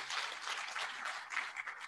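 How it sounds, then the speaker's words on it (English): Audience at an International Women's Day celebration in Kenya applauds, a soft, even patter of many hands clapping, fairly distant and steady for a short stretch. "Can we clap for them?"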